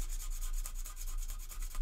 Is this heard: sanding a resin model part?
yes